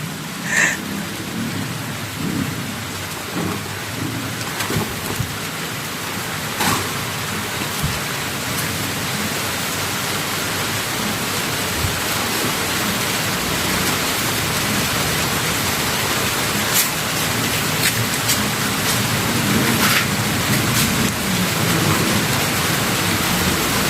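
Steady rain pours down over a cemetery, a dense continuous hiss of drops hitting surfaces all around, loud and close, with a few sharper drips and knocks standing out and no talking.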